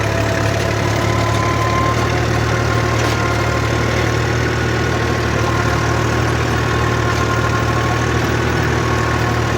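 A diesel tractor engine runs steadily in a red-soil farm field, a loud, even idling drone with a low knocking rumble and no speech.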